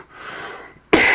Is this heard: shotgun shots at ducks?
no